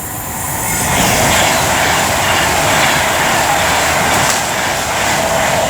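Class 390 electric train 390043, working from Liverpool Lime Street to London Euston, passing through Rugeley Trent Valley station on the West Coast Main Line, a loud continuous roar and rail hiss close by that swells and holds steady.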